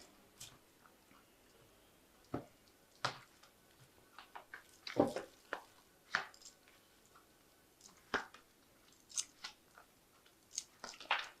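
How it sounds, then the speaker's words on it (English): Tarot cards drawn from a freshly shuffled deck, heard as a string of sharp, dry card snaps and flicks at irregular intervals, close and moderately quiet, with no talking. "I'm just going to draw some cards from it."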